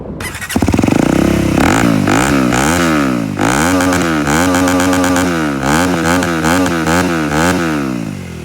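An Aprilia SX 125 motorcycle with an aftermarket exhaust starts up and settles into a loud, raspy idle, the engine note wavering steadily with a few small throttle blips, close by with no talk.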